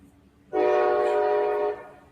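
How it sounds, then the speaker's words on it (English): A train passes close by a house, its horn sounding as one loud, steady, sustained blast that starts abruptly and fades after about a second, over low rumbling background noise. "It's a train going by my house."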